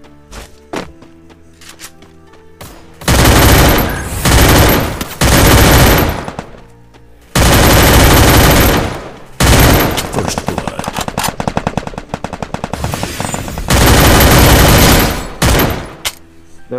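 Rapid automatic gunfire from the Free Fire battle royale game comes in several loud, dense bursts separated by short gaps, with a few single thuds between them.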